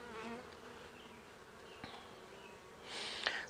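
Faint buzzing of honey bees humming close by at a hive, with a louder buzz sweeping past near the end.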